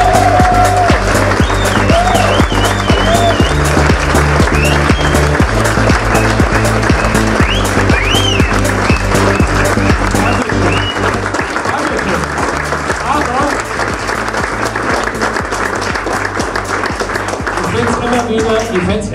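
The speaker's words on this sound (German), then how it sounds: "Herzlichen Applaus für Otto Schmid!" A theatre audience at the Heubodenbühne Schnuttenbach premiere applauds Otto Schmid, sustained crowd clapping running the whole stretch under music and people's voices, loud and continuous with rapid sharp claps.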